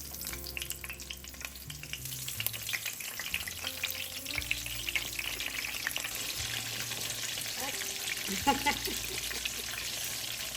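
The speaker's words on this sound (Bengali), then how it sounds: "তেলটা গরম হয়ে গেছে আমি এখন এতে দিয়ে দিচ্ছি একে একে বেগুন বেগুনগুলো" Eggplant slices frying in hot oil give a continuous bubbling sizzle with occasional faint clinks, while a quiet voice talks intermittently underneath.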